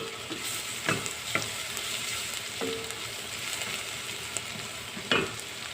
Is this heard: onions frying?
yes